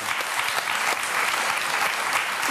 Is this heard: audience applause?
yes